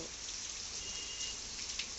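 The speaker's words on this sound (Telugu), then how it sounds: "చూడండి ఎంత పెద్ద వాన పడుతుందో" Steady hiss of heavy rainfall in Nellore district, a dense continuous wash of drops with no voices, even and unbroken throughout.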